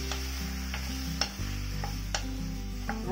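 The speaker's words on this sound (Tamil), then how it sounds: "நல்லா வதக்கிக்கலாம்." About a kilo of chopped tomatoes cooks down in a pan over high flame, a soft steady sizzle under a low hum, punctuated by a handful of light spoon clicks, with no talking.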